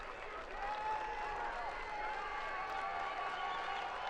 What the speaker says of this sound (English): So Suko makes way to applause here in Madison.